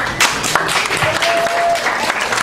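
A live audience claps loudly and steadily for a speaker describing his recovery from paralysis, a dense continuous applause close to the microphone, with a faint voice underneath.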